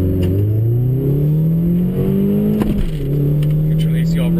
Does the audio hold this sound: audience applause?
no